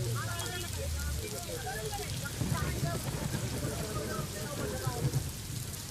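Steady heavy monsoon rain hisses throughout in Pune, with a low rumble and a voice talking over the downpour.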